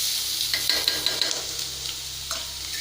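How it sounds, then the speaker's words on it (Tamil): Onions fry and sizzle in a pan for potato gravy, a steady bright sizzle with several soft scraping stirs of the spoon close by and no voices. "நம்ம வெங்காயத்தை ஆட் பண்ணுறோம்."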